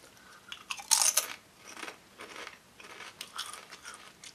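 Crisp, close crunching of cheeseburger-flavored potato chips, a loud burst of bites followed by several softer chewing crunches, with no talking.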